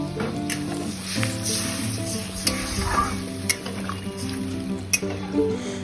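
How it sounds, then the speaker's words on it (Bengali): Spiced potato and cauliflower chunks sizzle in a kadai as water goes in, a steady frying hiss with scraping stirs and a few sharp spikes, with music playing throughout. "জল অ্যাড করে দিচ্ছি কড়াইতে"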